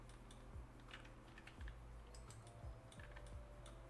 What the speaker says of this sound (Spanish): Creo que es el teclado que no me está funcando